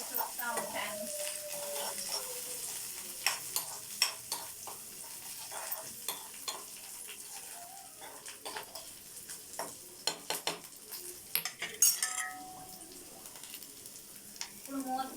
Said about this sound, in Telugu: కరివేపాకు కూడా వేసి తిప్పుతుంది గైస్. బాగా మిక్స్ చేయాలంట వాటిని.